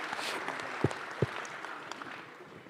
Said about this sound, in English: Ladies and gentlemen, can we have a very warm of applause for Mr. Narayan Murthy?